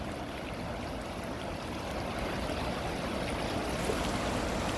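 Water streams and rushes steadily past a mill wheel at Morden Hall Park in London, a continuous broadband wash that swells slightly louder toward the end, with no voices.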